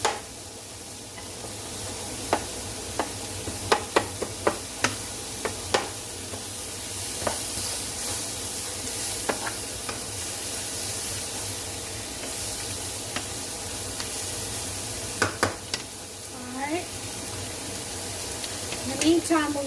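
Onions frying in a pan for onion-smothered steak give off a steady, close sizzle that runs throughout, with scattered clinks and taps from stirring.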